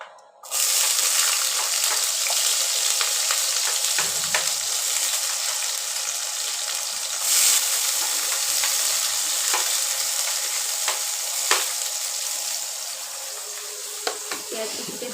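Chopped onion fries in a pan with ginger paste, a loud continuous sizzle starting after a brief quiet moment, with scattered clinks and stirring scrapes throughout and no voices.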